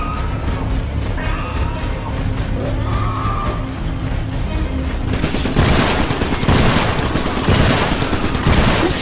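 Gunfire in the trench-warfare video game Trenched Iron Brigade, a steady clatter of shots under a low rumble, swelling into a denser, louder burst of fire in the second half.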